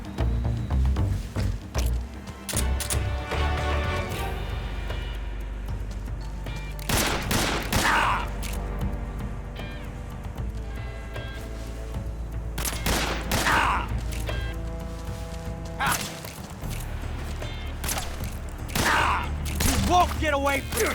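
Bursts of gunfire and mechanical weapon clatter in Metal Gear Solid 3, loud sharp shots recurring in clusters across a tense stretch, over a steady low rumble with occasional voices.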